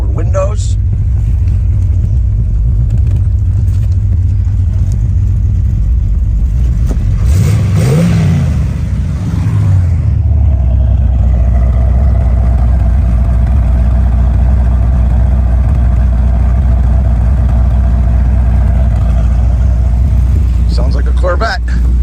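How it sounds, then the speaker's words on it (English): A muscle car engine with a Corvette-like tone revs up and settles into a steady, loud rumble that fills the whole stretch, and a voice talks over it. "Sounds like a Corvette."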